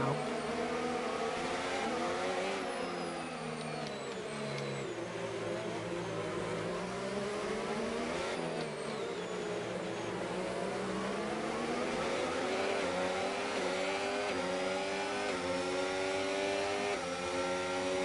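Formula 1 race car engines in the F1 25 video game, a continuous loud high-pitched whine rising and falling through gear shifts for the whole stretch, with no talk over it.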